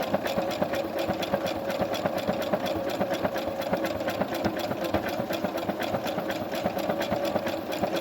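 A Brother SB1000T computerized sewing machine stitches steadily nearby, a fast even mechanical whir and needle clatter that runs unbroken and fairly quiet, with no talk.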